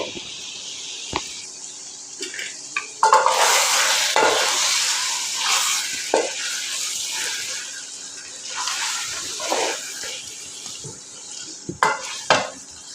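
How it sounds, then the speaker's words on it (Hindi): Cut potatoes are tipped into a pot of minced meat and fried for aloo keema. A spoon clatters and scrapes against the pot over a rough, hissing fry, with sharp knocks near the end. "हमने यहाँ पे आलू ले लिए हैं, उन्हें इस तरह से काट लिया और अब इसे इसमें डाल के अच्छी तरह भून लेंगे।"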